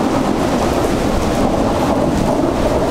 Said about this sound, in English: Oh, there goes another one.